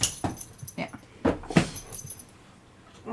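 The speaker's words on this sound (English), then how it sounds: "That's the dog." A dog gives several short whimpering cries in separate bursts, and keys jangle at the same time in a busy indoor room. A voice is audible between the sounds.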